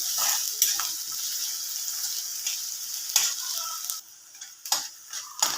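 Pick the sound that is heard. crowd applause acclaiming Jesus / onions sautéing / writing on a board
onions sautéing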